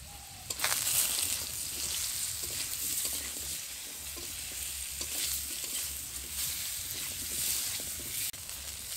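Browned sweet potatoes and chopped vegetable stems fry in a pan, giving a steady, close hiss of hot oil throughout, broken by occasional scraping stirs and small pops.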